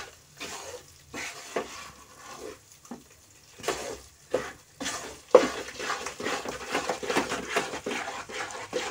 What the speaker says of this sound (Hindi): इसे अभी भी हम हिलाते ही रहेंगे नहीं तो कढ़ाई हमारी गर्म है